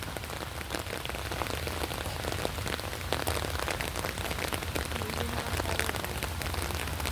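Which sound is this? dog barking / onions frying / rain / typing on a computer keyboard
rain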